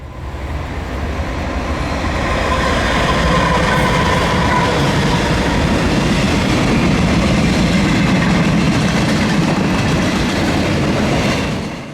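A CSX loaded military train, W830, led by BNSF locomotives, passes close and loud in North Carolina, a steady roaring rumble with wheel clatter that swells in, holds for several seconds and fades slightly at the end.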